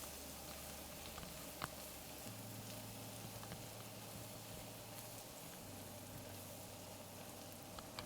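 Food sizzles steadily in a hot pan while it is stirred, a close, even frying hiss with a few faint scrapes, and no one speaks.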